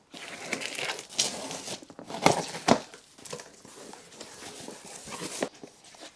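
Packaging around smoked aftermarket tail lights for a Mazda MX5 NB is cut open, with close crinkling and crunching of plastic and foam, a couple of sharper snaps midway, then softer rustling.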